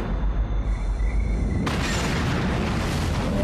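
Documentary-style asteroid impact explosion, a deep continuous roaring boom that swells into a broad, loud rushing blast partway through, with no voices.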